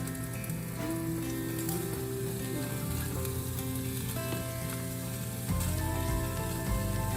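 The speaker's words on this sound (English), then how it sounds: "So I'm gonna go ahead and drop the sausage in." Sausage sizzles steadily in a hot Dutch oven for jambalaya, with a continuous frying hiss beneath a layer of sustained tonal hum and faint clicking.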